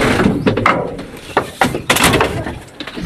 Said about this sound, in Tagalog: Nagsarado ng pinto si Ate Yani.